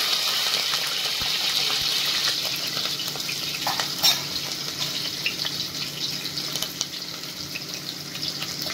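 Boti (goat tripe) fries in oil with green chillies. The sizzle is loud and continuous, with occasional stirring scrapes and a brief clatter near the middle.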